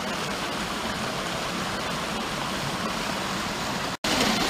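A small woodland waterfall spills beneath fallen, rotting logs, giving a continuous close rushing splash that stays even apart from a brief dropout near the end.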